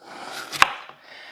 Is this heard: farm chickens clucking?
no